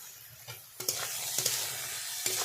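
Lentils and greens with turmeric and salt being stirred in a hot pan, a steady sizzle broken by several louder scraping strokes of the spoon, close and with no voices.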